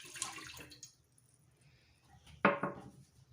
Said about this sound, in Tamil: இப்போ இதில் 1 கிளாஸ் பால் ஆட் பண்ணுறேன்